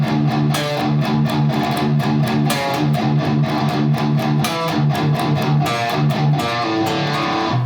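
A distorted electric guitar plays a galloping opening riff, a tight, dense, unbroken run of down-up-down chugs that sounds loud and close, with no talking over it.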